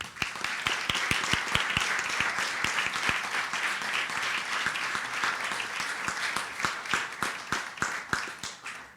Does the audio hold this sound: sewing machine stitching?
no